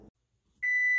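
A kitchen oven timer sounds a single steady high-pitched electronic beep that starts about halfway through and holds loud and clear to the end, after a brief bit of low noise at the start.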